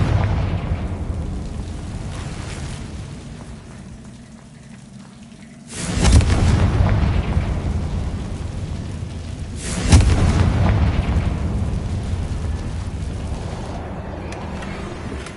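Two fiery blasts from a Confringo spell in Hogwarts Legacy, each a sudden loud boom with a rumbling tail, several seconds apart over a steady low ambient bed.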